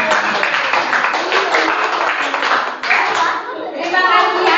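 Children clapping their hands together in a classroom, a steady, close, lively patter of claps that runs for several seconds, briefly dipping before picking back up, with young voices mixed in.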